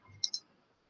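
Two quick, faint computer mouse clicks come close together, sharp and light, in a quiet room.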